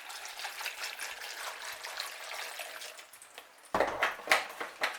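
Water drains and trickles from an orchid pot during repotting of a Phragmipedium, with close irregular drips and splashes, growing louder and more broken as it runs into a bowl near the end.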